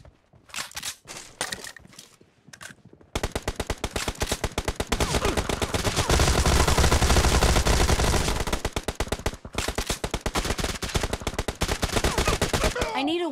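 PUBG Mobile domination-mode gunfire opens with a few separate shots, then long rapid automatic bursts sounding loud and close for most of the stretch, with brief pauses.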